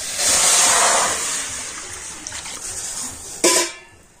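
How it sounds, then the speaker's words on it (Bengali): Water pours into a kadai set on a lit stove, a loud, rushing splash that slowly eases off and ends with a sharp metallic clank. No one speaks over it. "আর কড়াতে আমি এখন দিয়ে দেব জল।"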